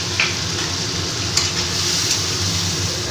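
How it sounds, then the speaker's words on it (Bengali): Chopped onions fry in hot oil over tempered spices until reddish for a chicken and potato curry, a close, loud, continuous sizzle with a few light stirring clinks. "পেঁয়াজটা এবার লাল লাল করে আমি একটু ভেজে নেব।"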